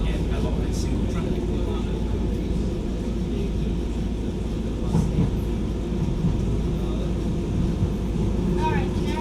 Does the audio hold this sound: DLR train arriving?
yes